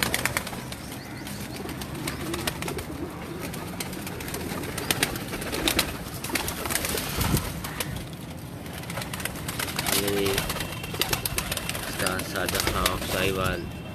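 Pigeons coo on a rooftop in Sahiwal, where high-flying pigeons are kept, with wing flaps and soft repeated calls mixed into steady outdoor noise and some voices.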